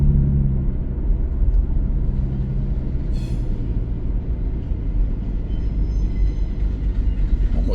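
Freight train hauling pulpwood cars behind a GP38 locomotive, a loud, close, continuous low rumble of rolling wagons with rail noise and a brief squeal or hiss partway through.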